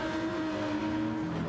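Several race cars in a Daytona sim racing safety car championship run bunched together, their engines making a continuous, droning whine with tones that shift slightly as they pass.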